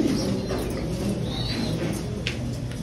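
Pigeons in a fancier's pigeon collection coo softly in low, repeated murmurs alongside other bird calls, with no one speaking.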